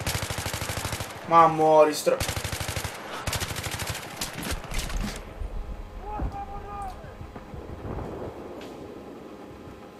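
Rapid bursts of automatic gunfire in Battlefield 3, loud sustained rattling volleys in the first half with brief pauses, fading to scattered distant shots, with someone talking briefly.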